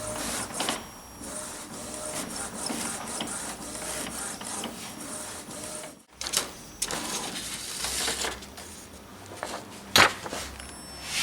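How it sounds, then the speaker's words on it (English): An Epson EcoTank ET-2550 inkjet printer prints a print-head alignment sheet, running continuously, whirring and buzzing as the print head shuttles back and forth, with clunks and a brief pause midway; no talking. "Don't stop the printer while it's printing the alignment sheet."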